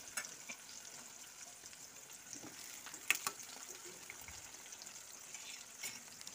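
Sliced onions fry in hot oil in a home kitchen: a soft, steady sizzle and hiss with a few brief clicks and scrapes of stirring, quiet and close with no talking.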